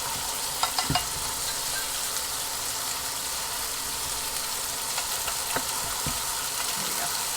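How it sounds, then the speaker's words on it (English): Ham frying on a Hestan Cue smart induction pan, a steady low sizzle with a few faint clicks and scrapes of stirring scattered through. "Cook the ham. Stir every minute."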